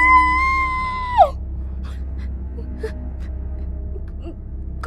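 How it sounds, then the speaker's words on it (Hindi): A woman's high, sustained scream of fright in a horror story breaks off into a sharp falling cry, then gives way to near silence with faint rustles. "उस चिल्लाती हुई आवाज को सुनकर नीलू की चीख निकल जाती है"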